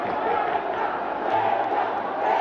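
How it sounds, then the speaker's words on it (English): A basketball arena crowd during a 2015 PBA game chants and roars continuously, a dense wash of voices with a commentator talking over it. "you can hear the crowd chanting"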